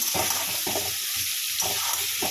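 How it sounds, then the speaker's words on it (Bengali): Chopped vegetables for khichuri sizzle in a hot pan, a steady close crackling hiss broken by rhythmic scraping strokes as they are stirred. "একটু ভেজে নিই"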